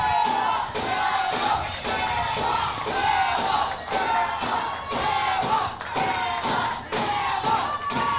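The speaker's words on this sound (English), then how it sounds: "You can hear the Bama crowd already." A loud Alabama crowd roars and chants continuously at a youth baseball World Series game, with rhythmic thumps and surging cheers throughout.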